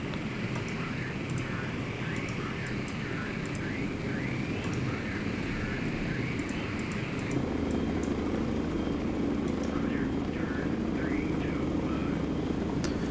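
Helicopters fly out in the Sea Power naval video game, a steady engine and rotor drone holding throughout at constant loudness, with voices murmuring over it.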